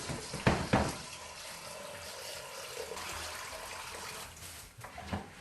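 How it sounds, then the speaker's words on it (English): Water poured from a container over beans in a bowl to cover them for soaking, a close splashing pour with a couple of louder gushes at the start and a steady trickle throughout. "So that's all I need to do now is to pour some water to cover it."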